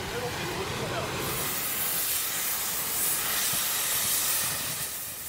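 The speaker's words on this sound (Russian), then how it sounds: "Эта горелка режет при температуре 3500 градусов." A gas cutting torch slicing through worn railway rails, giving a loud, steady roaring hiss that brightens after the first second and holds close and continuous throughout.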